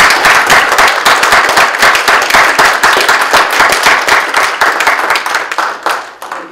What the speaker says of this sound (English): Let's everybody give them a big round of applause.